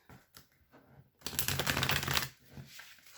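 Tarot cards shuffled by hand during a reading, a few soft taps and riffles followed by a longer rapid flutter of cards, faint and close with no talking.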